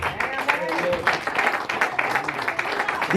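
A church congregation claps together, a brief dense burst of applause with some voices mixed in.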